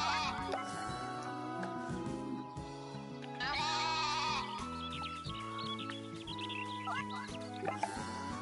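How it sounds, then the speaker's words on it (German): Goat bleating in the farming video game Story of Seasons: A Wonderful Life, several wavering bleats over soft game music. "Sieht da unten, da ist schon wieder die Ziege drin."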